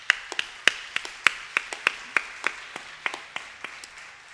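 Sparse applause for a flute player at a classical Indian dance debut recital: a small handful of distinct, fairly close claps in an uneven rhythm over a quiet room.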